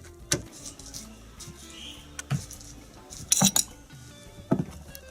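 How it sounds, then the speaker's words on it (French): Garlic, ginger, pepper, salt and chili being pounded with a pestle, a few sharp irregular knocks and clinks spaced out across a quiet kitchen, close by. "On va prendre l'ail, le gingembre, le poivre, le sel et le piment. On va écraser au pilon."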